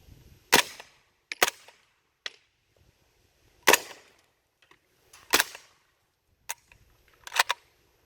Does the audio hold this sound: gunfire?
yes